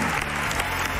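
A studio audience on a Spanish television talk show claps for a guest named Alejandro: a short, steady burst of dense applause with no pauses.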